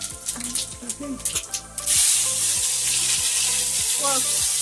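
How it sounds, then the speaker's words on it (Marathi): Cumin and mustard seeds hit hot oil while upma is being made, bursting into a loud, steady hiss and sizzle after a few seconds of kitchen clatter and talk. "आहे बघा जिरे मोहरी टाकली का"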